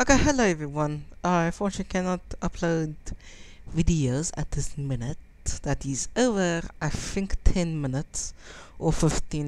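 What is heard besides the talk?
No everyday noise stands out behind the speech.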